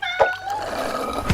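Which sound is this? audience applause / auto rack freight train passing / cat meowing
cat meowing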